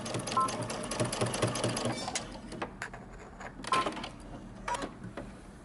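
A domestic sewing machine runs in a steady rapid stitching whir while sewing a shirt placket and backstitching at the end, slowing and stopping in short bursts near the end, close and moderately loud.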